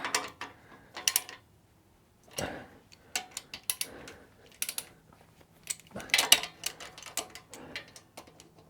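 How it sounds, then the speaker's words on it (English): Bolts on motorcycle crash bars being tightened by hand tool, irregular close clicks and short ratcheting bursts separated by brief pauses, fairly quiet with no talking. "I'm going to slide the crash bars back and get those bolts in, and then just tighten everything up."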